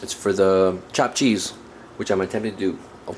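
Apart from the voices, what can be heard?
None of the usual background noises is heard.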